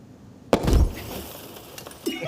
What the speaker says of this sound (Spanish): Prácticamente escuché el jarrón romperse